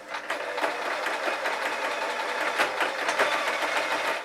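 A sewing machine stitches a fabric hat with puppy ears, a rapid, close mechanical chatter of needle strokes running continuously for a few seconds.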